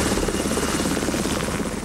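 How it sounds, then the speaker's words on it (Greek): An Aegean Hawk anti-submarine helicopter flies with a loud, steady rotor thump and engine whine throughout, close by and without speech. "Σύντομα την εμφάνισή του έκανε στον ορίζοντα ένα ανθυποβρυχιακό ελικόπτερο Aegean Hawk"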